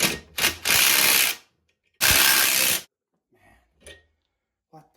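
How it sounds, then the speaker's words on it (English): An 11 mm wrench works a tie rod on a Mazda 3, giving two loud bursts of rapid ratcheting clicks separated by a pause, followed by a few faint scrapes and knocks close by. "I shaved this down so that 11 mil wrench can go on."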